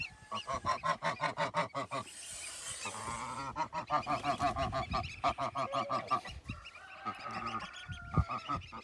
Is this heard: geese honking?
yes